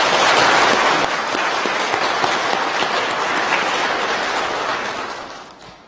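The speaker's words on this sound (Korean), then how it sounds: "우리 이 시간 성가대를 위해서 따뜻한 격려의 박수 부탁드리겠습니다." Warm, dense applause for a church choir from the congregation at a New Year Sunday service. Loud and sustained, it fades out toward the end.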